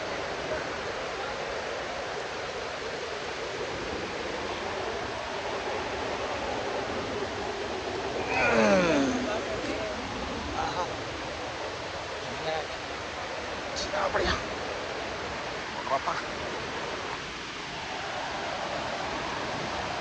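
A hidden waterfall roars as a constant broadband rush. People are nearby, with voices, rustling and brief knocks rising intermittently over the steady water.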